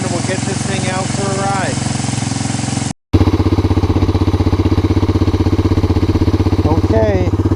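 A Honda Four Trax TRX250 ATV engine idles fast with a steady, loud, close chugging drone, briefly cut off mid-way then resuming, with people talking over it.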